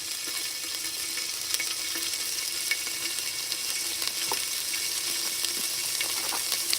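Oil heating in a pan for Hakka noodles gives a steady, close sizzling hiss throughout, with small crackles scattered over it and no voices.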